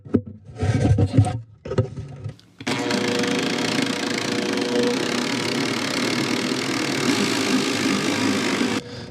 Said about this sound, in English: So this is my first roto sander